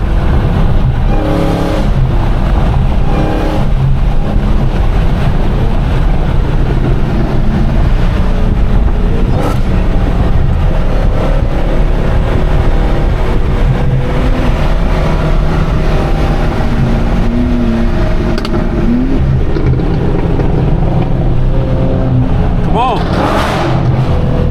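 Modified Dodge Hellcat and Cadillac Blackwing engines in traffic, a loud continuous engine rumble with road noise heard from inside a car, with voices talking over it.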